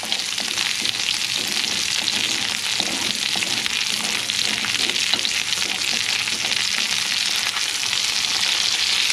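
Steak searing in a hot pan alongside potatoes produces a loud, continuous hiss and crackle, close and unbroken throughout, with no voices over it.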